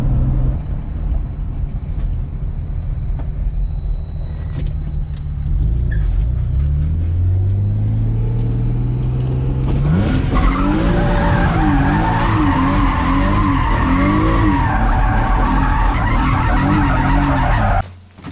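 A car spins through donuts with loud, continuous tire skidding and squeal over a rumbling engine, the pitch wavering as it circles, close and with no talk.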